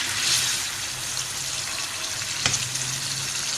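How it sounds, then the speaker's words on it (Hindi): Water poured into a pot of browned chicken pieces for almond chicken curry, a steady hiss and sizzle throughout with a brief sharp splash near the end, close and fairly loud, no talking. "थोड़ा सा हमने पानी डाला है इसमें।"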